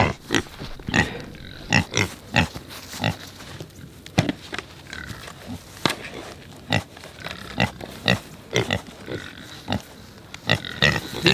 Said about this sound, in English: These pigs are a lard pig, so they got a ton of fat on them that's keeping them warm.